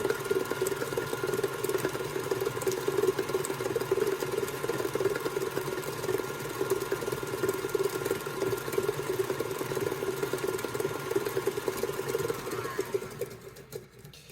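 An electric mixer beating gluten-free cookie dough, a steady mid-pitched motor whir with a faint rattling pulse that runs continuously and close, then cuts off near the end.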